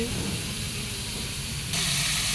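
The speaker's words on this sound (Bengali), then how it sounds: "আর দেখো আলু ভাজা হচ্ছে" Potatoes fry in a pan with a continuous close sizzling hiss that grows louder and brighter near the end, with no talking.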